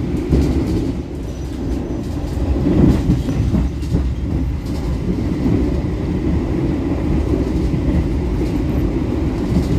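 Another train rushes past the Argo Bromo Anggrek express, a loud, close, rumbling clatter of wheels on rails that swells and holds for several seconds, with no talk.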